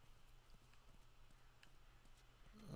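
Horse hooves clip-clop at a steady walking pace in the video game The Last of Us, quiet and regular, with a louder rumbling noise rising at the very end.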